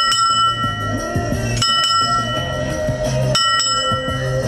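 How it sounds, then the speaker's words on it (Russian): A ship's bell rings out in repeated clangs, bright ringing tones overlapping and sustaining between strikes. "Рында – знак СОС для кораблей. Ее звон не всегда слышен издалека."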